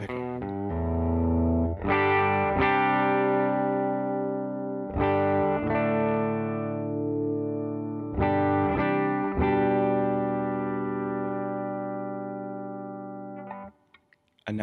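Distorted Les Paul electric guitar on the bridge pickup, its tone control being adjusted while sustained chords ring out close and loud, struck in several groups and slowly fading at the end.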